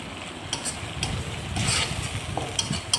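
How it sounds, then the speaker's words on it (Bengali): A paste of cashew, melon seed and poppy seed with turmeric frying in a pan for a potato and pointed gourd curry, a close, steady sizzle with scattered scraping stirs, no speech. "এবার একটু এটাকে লাল লাল করে ভেজে নিলাম সব কিছু দিয়ে"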